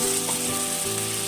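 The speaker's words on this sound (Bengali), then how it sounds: "এবার মশলাটা আমি ভালো করে কষিয়ে নেব," Spice paste sizzles in a pan with fried potatoes, a steady close crackling hiss with a couple of brief scraping stirs and a faint tonal hum underneath.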